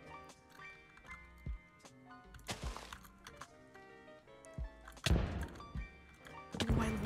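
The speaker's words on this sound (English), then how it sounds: "I love that explosion sound" An explosion in Minecraft Bedwars, played with a custom resource pack: a couple of broad, crunchy blasts that burst out over tonal game music and short clicky hits.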